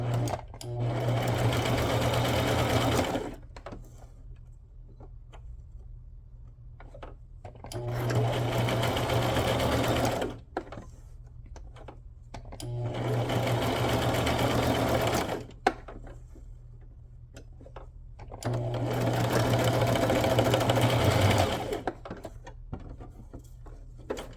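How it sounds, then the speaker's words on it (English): A sewing machine runs in four bursts of steady mechanical stitching, each a few seconds long, separated by quiet pauses with small handling clicks. "I'm just gonna sew this little piece together"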